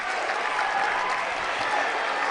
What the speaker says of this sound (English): Well, that got some noise out of the crowd.